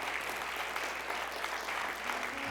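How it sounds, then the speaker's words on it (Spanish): A church congregation claps in praise during an Easter service, giving continuous, even applause at moderate volume without letup. "Dale el aplauso de alabanza a Jesús."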